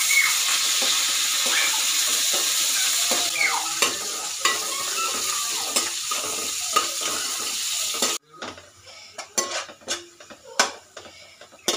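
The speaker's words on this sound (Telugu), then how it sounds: "సో నేను ఒక ప్యాన్లో కొద్దిగా ఆయిల్ వేసి ఆనియన్స్ని ఇలా పొడవుగా అయితే కట్ చేసి పెట్టాను. వాటిని వేసి ఫ్రై చేసుకుంటున్నాను." Long-sliced onions frying in a little oil in a pan for chicken dum biryani, a steady loud sizzle with occasional stirring scrapes, then a quieter stretch of intermittent clinks and sizzling.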